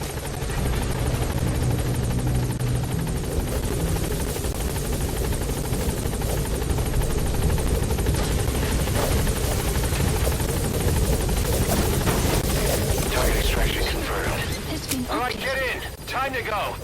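The helicopter Pequod arriving in Metal Gear Solid V: a loud, continuous rotor thump and engine roar holding steady throughout, close and dominant, with game radio voices and music-like tones layered over it.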